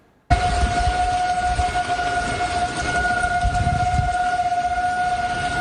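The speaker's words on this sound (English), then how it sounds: "And those are tornado sirens blaring in the early morning in North Georgia." Tornado sirens blare across Woodstock in North Georgia in the early morning during the Easter 2020 tornado outbreak, a loud steady wailing tone held throughout with rain and wind rumbling underneath.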